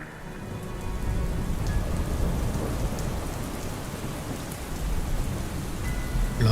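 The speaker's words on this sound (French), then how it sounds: "le ciel se zébra d'un éclair, suivi par une pluie sombre qui recouvrit tout Mordheim" A thunderstorm with steady heavy rain pouring down and low rolling thunder underneath, a dense continuous hiss that swells slightly toward the end, with no voices.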